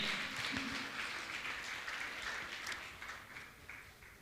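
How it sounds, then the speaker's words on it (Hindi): A seated gathering at a Jain religious discourse applauds guests being honoured. The clapping is faint and distant, a loose, scattered patter that thins slightly toward the end. "आप जोरदार जोरदार तालियों देकर इनका सम्मान करें"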